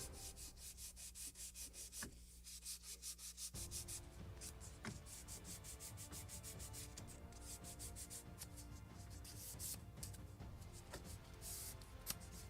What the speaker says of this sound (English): Now slight polishing, just to remove all these traces from tools,